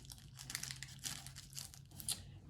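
Fabric folded into knife pleats, with faint soft rustling and crinkling as the cloth is handled, creased in quick small bursts.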